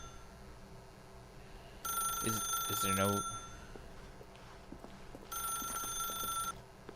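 Telephone ringing in The Stanley Parable video game, two bursts of shrill electronic ringing separated by a pause, with a person talking briefly in between.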